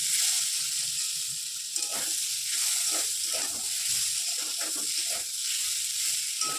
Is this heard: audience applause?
no